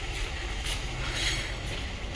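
A train at a railway station in Purulia gives a steady rumbling, whooshing roar with low-end drone, continuous and fairly close throughout, with no talking.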